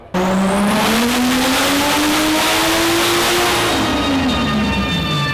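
A stock-block BMW E36 M3 engine screams on a dyno at full boost, a loud sustained rev that climbs steadily in pitch, peaks, then starts to fall away near the end, with no voices.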